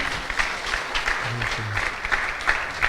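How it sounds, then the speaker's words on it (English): A congregation of devotees at an ISKCON temple in Durban applauds after a class, giving a moderate, steady clatter of many hands with a faint voice underneath. "Let's give Prabhu a warm round of applause"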